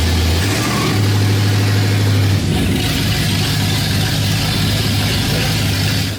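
A Ford Bronco's engine runs steadily while it drags a Suburban backwards, a loud close low hum that shifts pitch partway through and keeps droning.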